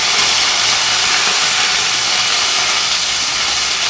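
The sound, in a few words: curry leaves sizzling in hot ghee for fried rice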